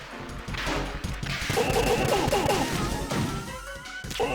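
Pistol shots in Metal Gear Solid 2, a few sharp reports mixed with crashes and thuds in a busy game scene, fairly loud and with no talking.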